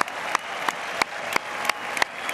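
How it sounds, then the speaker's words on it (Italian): Audience applause at the Arena di Verona during a performance of La Traviata, a broad steady wash of clapping with rhythmic accent bursts recurring through the stretch, filling the open-air amphitheatre. "Applausi anche per noi."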